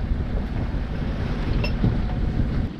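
Steady wind of up to 12 knots buffets the microphone on a sailboat in the Balearic Islands, with a broad rushing roar and water sloshing underneath.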